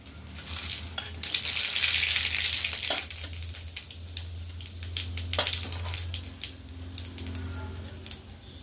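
Fenugreek and mustard seeds sizzle and fry in hot oil for a Bengali dal, a steady crackling hiss that swells early, then continues more softly with occasional clinks and stirring.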